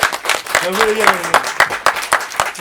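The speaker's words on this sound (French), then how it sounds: "Ça mérite plus d'applaudissements parce qu'ils ont été très créatifs" A studio audience at a Paris rap show gives sharp, fairly close applause, with distinct rhythmic claps standing out from the crowd, while a voice briefly talks over it.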